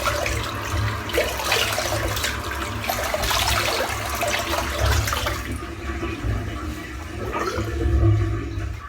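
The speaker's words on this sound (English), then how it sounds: "rinse off with some cool water" Cool tap water runs and splashes nearby while a face is rinsed after a shave, a continuous close hiss with irregular splashing bursts and gurgles.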